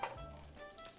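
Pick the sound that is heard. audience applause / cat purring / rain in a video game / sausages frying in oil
sausages frying in oil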